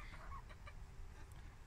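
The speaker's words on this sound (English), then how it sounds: "This is my favorite chicken, Sunny." Chickens in a backyard coop give faint, soft clucks early on, low in level against a steady background hum.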